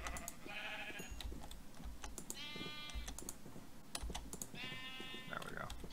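Sheep in the Minecraft video game bleat twice in wavering calls amid a stream of rapid keyboard clicks, with no one speaking.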